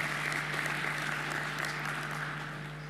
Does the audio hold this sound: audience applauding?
yes